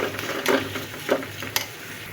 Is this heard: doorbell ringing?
no